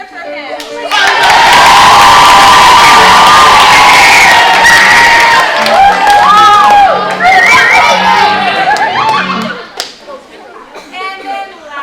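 Audience at a school melodrama cheering for the hero, a loud burst of shouting, whooping and clapping from a large crowd that holds for several seconds before tapering into scattered cries.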